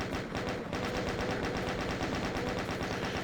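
Rapid, continuous chain gun fire from the video game DOOM hammers away in a dense, loud stream of shots without pause.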